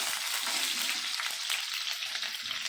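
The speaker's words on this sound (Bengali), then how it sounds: "রসুনগুলো একটু লাল লাল করে ভাজা হবে হালকা বেশি না জাস্ট একটু ভাজা ভাজা হবে" Garlic and chillies frying in oil for a shrimp and taro stolon dish, a dense, even hiss of sizzling throughout, close but quiet with no voices.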